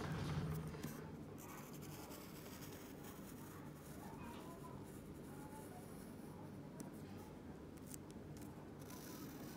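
A pencil traces over an image on tracing paper, producing faint, soft scratching strokes that continue steadily at close range in a quiet room.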